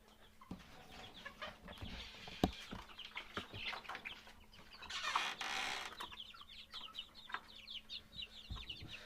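Young Fayoumi chicks peep and chirp busily in a cage, with scattered soft clucks and light fluttering close by.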